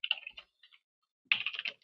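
Quick bursts of computer keyboard typing, near and fairly quiet, with a short pause between two flurries of keystrokes.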